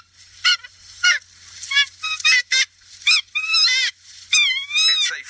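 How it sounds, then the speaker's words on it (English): A takahe, the flightless New Zealand bird, gives a series of loud, honking goose-like calls in short bursts, some rising and wavering, near and clear with brief pauses between. "this is a Takahe"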